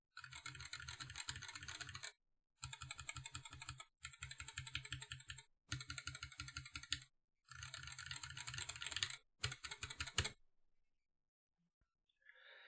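Mechanical keyboard fitted with Yok Red Panda switches, typed in quick clattering bursts separated by short pauses, close-miked and quiet with no talking, ending in near silence.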